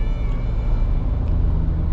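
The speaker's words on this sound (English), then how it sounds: "we're now driving the Ford Everest Trend on the highway" A 2023 Ford Everest Trend SUV cruises on the highway, giving a steady low engine and road drone with wind noise, continuous and even from inside the cabin.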